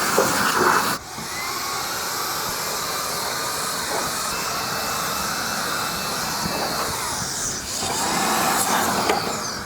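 A small handheld blower whooshes loudly and steadily as it clears sawdust off a chop saw, with brief dips in the airflow near the start and close to the end.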